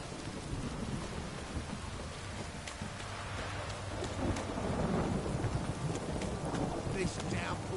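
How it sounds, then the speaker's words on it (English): Steady heavy downpour with rolling thunder in the rainy outdoors of The Witcher 3 game, a dense continuous hiss of rain hitting surfaces with low rumbles building midway and a faint voice murmuring underneath. "This downpour's a bastard"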